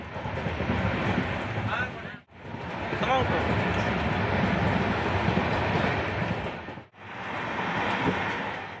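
A moving train carriage rattles and roars steadily from inside, a dense, continuous rumble with faint squeaks and clanks, broken by two brief dropouts.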